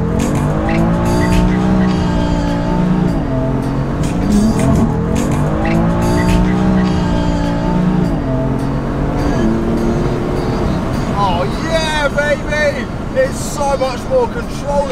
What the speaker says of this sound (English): doing skids to the left at the moment